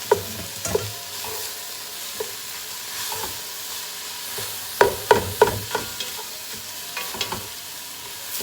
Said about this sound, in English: what I need to do is I add my ground meat, the ground meat that I cooked earlier, ground beef